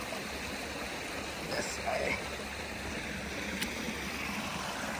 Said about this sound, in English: beautiful flowing spring creek